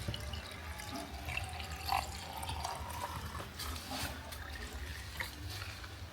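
Warm water runs from a tap or is poured into a cup for lemon water with African basil, a faint steady trickle with small drips and splashes over a low room hum.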